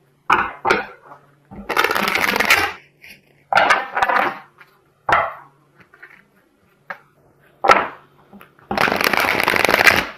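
Tarot cards shuffled and drawn during a Pisces love tarot reading: several bursts of brisk riffling and flicking, close and fairly loud, separated by short quiet gaps and sharp single card snaps.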